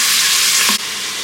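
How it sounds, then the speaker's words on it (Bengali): Cinnamon, cardamom, cloves and cashews fry in hot oil inside a pressure cooker, a loud, steady close sizzle that briefly dips near the end, with no talking. "এতে দিচ্ছি দারচিনি, ছোট এলাচ, লবঙ্গ, আর দিচ্ছি কাজু। সব একসাথে ভেজে নিচ্ছি।"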